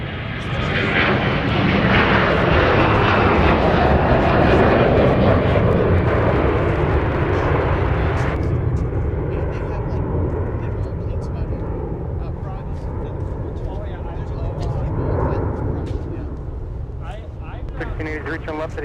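Jet airliner engines roar loud and continuous at Minneapolis–Saint Paul airport, a broad sustained rumble that peaks early and then settles into a steady, slightly quieter drone, with faint voices underneath.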